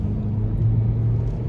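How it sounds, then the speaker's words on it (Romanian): Kia XCeed plug-in hybrid under full acceleration, heard from inside as a loud, steady engine drone with a sustained low hum and road rumble. "motorul e un pic zgomotos în plină accelerație"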